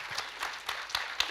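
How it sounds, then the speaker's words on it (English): An audience claps in a brief burst of applause, a dense patter of hand claps with a few sharper individual claps standing out. "Can I please request all of you to give them a wonderful round of applause?"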